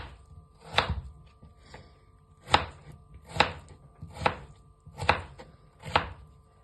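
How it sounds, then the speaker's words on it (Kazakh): Seven sharp knife chops on a cutting board as potatoes are diced, spaced unevenly about a second apart, close and clear with no talking. "Енді картопымызды тураймыз."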